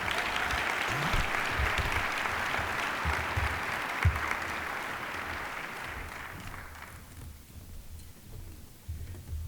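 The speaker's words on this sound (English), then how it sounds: "how about one more applause for all of our junior giants?" Sustained applause from a banquet crowd honoring junior baseball players, steady and fairly loud for about six seconds before thinning out and fading, with a brief burst near the end.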